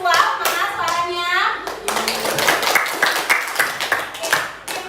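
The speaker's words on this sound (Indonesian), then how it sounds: "Ya boleh sambil tepuk tangan nih biar heboh." A group of children claps hands together in a classroom, a burst of quick, uneven claps over loud voices and excited chatter, with a teacher speaking at the start.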